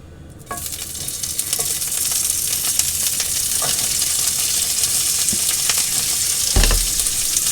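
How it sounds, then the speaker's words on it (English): Green beans and broccoli hitting hot oil in a pan, a sudden loud sizzle that settles into a steady, close frying hiss, with a brief clatter near the end and no talking. "Oil's hot, add the green beans and the broccoli to the pan."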